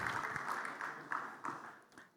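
Audience applause at a humanitarian conference in Nigeria, a broad wash of clapping with a few sharper individual claps standing out, gradually thinning as it continues.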